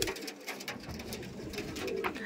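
Pigeons offered for sale, Madrasi birds from a breeder's loft, make soft overlapping cooing amid a busy, noisy background that fills the clip.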